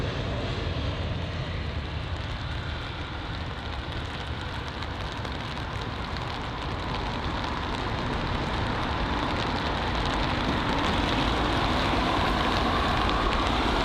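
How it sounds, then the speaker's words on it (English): Heavy rain pours steadily at an airport near the runway during aircraft arrivals, a loud, dense, continuous hiss that holds for the whole stretch without speech. "And the rain is crazy."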